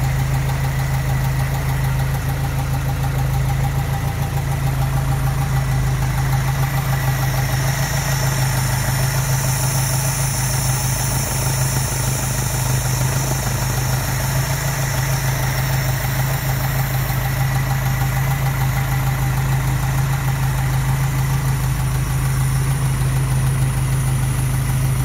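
A Ford Capri engine idles steadily and evenly for a long stretch after a carburettor replacement, a continuous low rumble with a slight knocking texture, close by with no talking.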